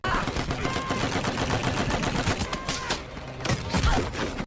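Battle gunfire from the film Hacksaw Ridge, with rapid overlapping shots crackling through a dense, chaotic war soundscape and a heavier burst near the end.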